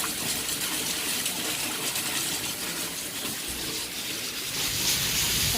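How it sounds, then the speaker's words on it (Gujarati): Rainwater from an entire roof gushes forcefully into a storage tank during a downpour, a steady, splashing rush of water that swells slightly louder near the end. "આ ઉપરના આખી છતનું પાણી આવે છે,"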